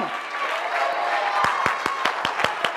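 Church congregation breaks into applause, a broad wash of crowd noise and voices giving way to a series of sharp, separate claps in loose rhythm toward the end.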